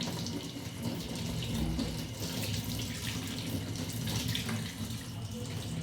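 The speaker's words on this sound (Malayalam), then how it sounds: "ബ്രഹ്മി തുളസി ഇതെല്ലാം കഴുകി വെച്ചിരുന്നത് എങ്കിലും ഒന്നും കൂടെ ഒന്ന് വെള്ളം ഒഴിച്ചെടുക്കാം" A quiet, steady stream of water poured over brahmi and tulsi leaves to rinse them, running without pause in an indoor kitchen setting.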